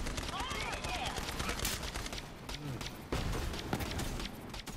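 Gunfire in the Borderlands 3 shooter: a dense scatter of sharp shots and bursts over a busy, noisy game soundscape.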